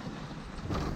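Wind gusting over a sailboat at sea on the Indian Ocean, a brief rushing buffet against the microphone that swells toward the end.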